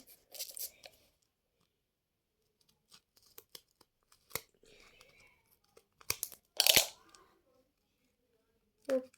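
Blind box packaging being torn open, with a few sharp tearing and crinkling bursts of plastic and paper close by, separated by quiet gaps and soft handling noises.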